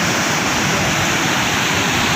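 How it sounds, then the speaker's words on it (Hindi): Chitrakoot waterfall on the Indravati river in Bastar, Chhattisgarh, roars as a loud, steady, broad rush of falling water with no voices. "जो कि इंद्रावती नदी है और ये जलप्रपात है चित्रकूट का"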